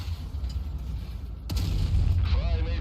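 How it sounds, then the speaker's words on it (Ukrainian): A single sharp, heavy tank cannon blast in the video game World of Tanks Blitz bursts out midway, followed by a low rumbling tail and some whirring noise, loud and close. "Ахуєнний постріл."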